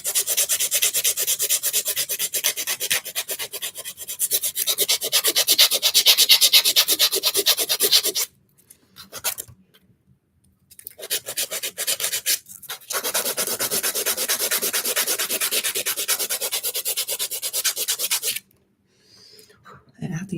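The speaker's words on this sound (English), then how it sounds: "after you've been doing filing for so long, you kind of know how to just move the file so the nail can shape the way you want it to shape" A nail file rasping across fingernails to shape them, rapid back-and-forth strokes in long close bursts broken by short pauses, loud and with no voices.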